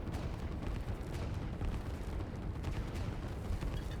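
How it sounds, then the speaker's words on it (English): Artillery pounds a cruiser in the strategy game Line War, with dense, overlapping booms and rumbling blasts forming a loud, continuous barrage. "This was definitely only 2 artillery shooting at the cruiser for the first little bit."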